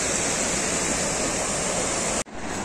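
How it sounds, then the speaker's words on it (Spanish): The current of the flooded Ebro river rushes in a loud, steady roar, with a brief cut near the end before the roar resumes. "Mirad cómo va la corriente."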